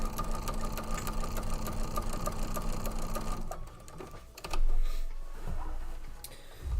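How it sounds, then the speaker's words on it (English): A sewing machine stitches a Kite-Tail zigzag border on a maple leaf table runner, running in a fast, even mechanical rattle for a few seconds, pausing briefly, then whirring again in a shorter burst. "this is a zigzag pattern. They call it kite."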